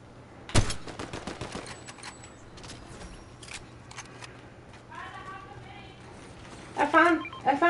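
Bursts of rapid gunfire from a Fortnite match crackle in quick volleys, with clicks and rattles between shots, and faint chirpy game effects near the end.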